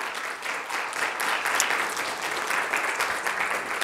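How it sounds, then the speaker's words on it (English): Church congregation applauding in a sustained hand clap of praise at the end of a Sunday lesson, a steady dense wash of many hands clapping at a fairly even level throughout. "give the Lord a hand clap of praise"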